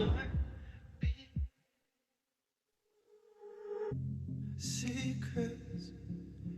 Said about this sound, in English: Just listen to the heartbeat.